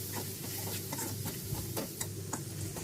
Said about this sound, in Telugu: అది కొంచెం పసుపు, అలాగే కొంచెం కరివేపాకు వేసి బాగా ఫ్రై అవ్వనివ్వాలి దీన్ని.